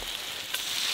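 Bacon frying in a pan at a winter campsite in the snow gives off a steady, close, crackling sizzle that holds at an even level throughout.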